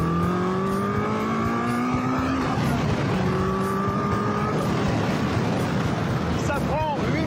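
Caterham Seven 485R, a 525 kg lightweight sports car, revving hard and accelerating with rising engine pitch through gear changes, loud and close, followed by a brief tire squeal near the end.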